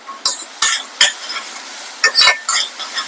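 Tomatoes sautéing in a pan with a little rock salt: loud, close bursts of sizzle and scraping come in quick irregular strokes as a spoon stirs, with short pauses between, no speech.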